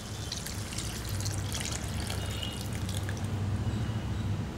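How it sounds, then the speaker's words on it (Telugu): Tamarind extract poured into a pan of Andhra-style egg curry with green chillies, a steady soft trickling and dribbling of liquid that continues without pause. "ఇప్పుడు ఇందులో చింతపండు పులుపు వేసుకోవాలి"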